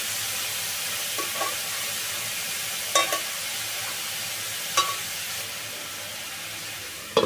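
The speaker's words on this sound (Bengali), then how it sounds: "সবজিগুলো ততক্ষণ ভাজা হতে থাক" Mixed vegetables fry in a pan with a steady, even sizzle and hiss, broken by a few sharp clicks as they are stirred and moved around.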